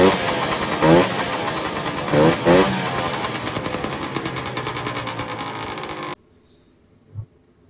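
A 1971 Puma 440 engine cranks and fires, then runs rough and loud with uneven revving for about six seconds before cutting off, leaving near silence and one faint knock.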